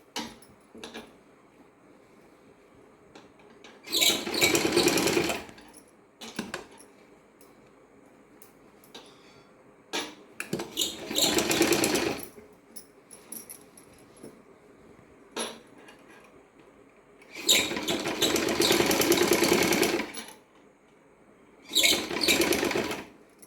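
Sewing machine stitching a blouse, running in four bursts of rapid mechanical stitching of a second or two each, separated by quiet pauses with faint handling clicks.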